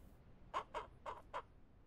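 Chickens in the farming video game Ranch Simulator let out four short, soft clucks in quick succession, faint and close together, with no talk over them.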